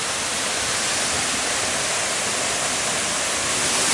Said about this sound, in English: this waterfall is just so beautiful